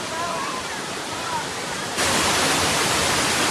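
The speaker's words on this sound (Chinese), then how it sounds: "快看这里，这水流下来就像一个帘子一样，所以叫做水帘瀑。" Dense, continuous roar of falling water at a Y-shaped waterfall on Yuntai Mountain, close and loud, growing brighter and stronger halfway through with no distinct voices.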